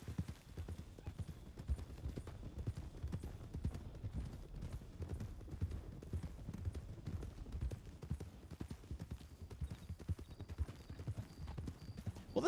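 Horse hooves clip-clop steadily throughout a western ranch roleplay video game, a continuous close rhythm of many hoofbeats with faint voices occasionally underneath.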